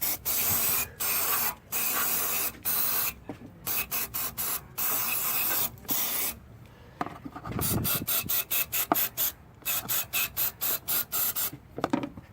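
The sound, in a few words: spraying cleaner into Ford Mustang throttle body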